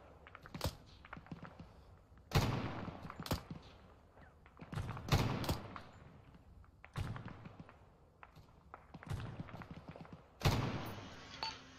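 Gunfire in the video game ArmA 3 comes as distracting shots from a checkpoint. Sharp reports and short bursts arrive every couple of seconds, fairly distant and punchy, over a quiet background.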